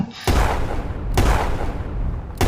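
Semi-automatic shotgun firing three heavy booming shots in quick succession, loud and close, each blast ringing into the next.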